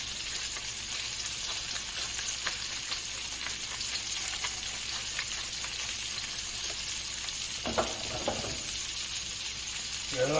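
Mushrooms and shallots fry in a pan with a constant close crackling sizzle, and a brief stirring scrape comes near the end.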